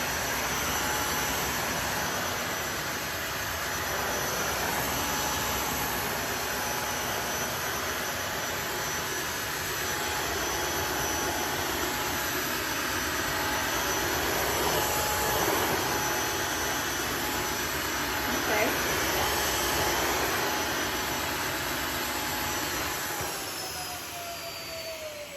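A Tineco Floor One S3 smart cordless vacuum and wash runs steadily, its loud, constant whirring motor holding an even, broadband drone with no talk, then easing off slightly near the end.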